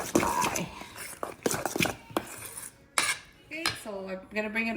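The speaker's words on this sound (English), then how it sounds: "Just added the black peppers. I'm gonna mix this up" A utensil clinks and scrapes against a bowl while an egg meatloaf mixture with black pepper is stirred, close and in uneven bursts. A voice speaks quietly underneath.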